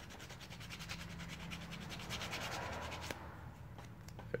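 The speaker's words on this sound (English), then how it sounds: "Take my sandpaper and" Sandpaper is rubbed back and forth in quick, regular strokes to smooth a cut edge on a cosplay armor piece, close and fairly quiet, ending after about three seconds with a few faint taps.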